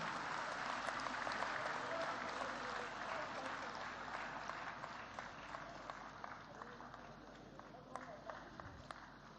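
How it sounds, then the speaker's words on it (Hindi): Applause rings out for overseas Indian honorees at the closing session of a Pravasi Bharatiya Divas ceremony, a large crowd clapping steadily and densely throughout, with faint voices beneath. "जोरदार तालियों से हमारे प्रवासी भारतीयों का सम्मान करें।"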